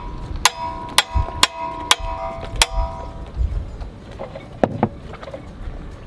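A hammer strikes metal sailboat engine crankshaft parts, ringing out in a string of sharp clangs, about five early blows and then a pair later on, fairly loud and with no talk.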